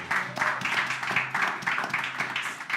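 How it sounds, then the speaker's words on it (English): An audience at a freelancing talk claps for an event organiser: a dense, steady patter of many hands at moderate volume, continuing evenly for a few seconds without a break. "so can we start with a round of applause?"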